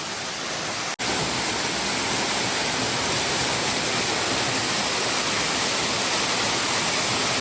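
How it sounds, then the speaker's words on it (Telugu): Water pouring down from the rock ceiling inside a cave, a loud, unbroken roaring rush of falling water heard close, with one brief dropout near the start. "గుహ పైనుంచి నీళ్ళు అయితే పడుతుంది"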